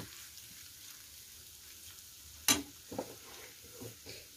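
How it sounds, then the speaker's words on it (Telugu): Garlic paste fries in a pan for a beetroot curry, a soft low sizzle with a sharp clink of the spoon midway, then a few quieter scraping stirs. "ఒకసారి అది వేసాక కొంచెం పచ్చివాసన పోయేదాకా దాన్ని ఒక 2 to 3 minutes అట్లా కలిపేసేసేయండి"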